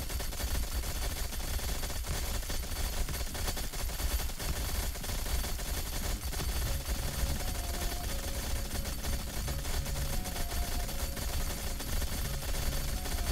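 Rapid automatic gunfire from gun turrets in the heavily modded factory-building game Factorio, a dense, continuous rattle of shots layered over busy game noise and music, loud and sustained throughout.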